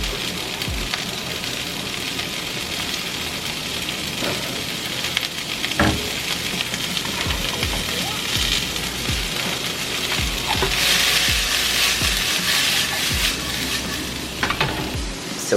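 Food seasoned with salt and garlic powder frying in a pan, a steady broadband sizzle throughout with scattered clicks and light scrapes of stirring, growing slightly louder and brighter near the end.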